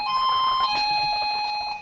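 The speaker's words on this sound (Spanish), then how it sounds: "Eso significa que alguien está tocando el timbre en mi casa." An electronic doorbell at home rings with a steady, sustained multi-tone chime, loud and close, with no one talking.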